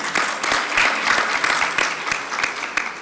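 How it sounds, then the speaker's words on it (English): Audience applause for a group of speakers at a leadership talk event, a steady dense wash of clapping with a few sharper individual claps, close and continuous throughout. "Big round of applause for all our speakers"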